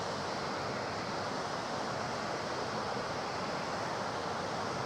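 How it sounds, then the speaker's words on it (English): A waterfall on the Affric Kintail Way in the Scottish Highlands roars as a steady, dense wash of rushing water, constant and unbroken, with no voices over it. "So we're at the waterfall now."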